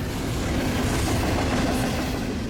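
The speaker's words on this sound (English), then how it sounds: "another westbound BNSF stack train passes on track 2 through Fullerton" A westbound BNSF double-stack freight train passes on track 2 through Fullerton with a loud, close, continuous rumble and a dense clatter of wheels and cars that holds steady throughout.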